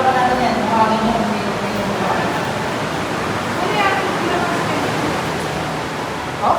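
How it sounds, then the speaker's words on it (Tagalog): Rushing river water echoing inside a cave along the Tinipak River, a steady broadband roar filling the whole clip while people talk over it. "Parang may rumaragas ang tubig ah"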